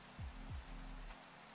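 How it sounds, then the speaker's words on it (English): Rain falls in a video game as a faint, even patter with low rumbling swells underneath, quiet and short, with no voices. "Oh, it's fucking raining in the game."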